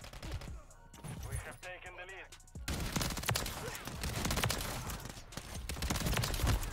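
An FJX Horus SMG fires in Modern Warfare 3 multiplayer on the Stash House map, sustained rapid bursts over game noise after a quieter opening stretch.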